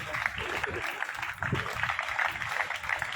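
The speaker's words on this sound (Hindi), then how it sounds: "और तालियों की गड़गड़ाहट और अनुशासन बता रहा है" Thunderous applause fills an outdoor campus ceremony at Prince Academy, a dense, steady wash of many hands clapping at once, with a voice faintly over it.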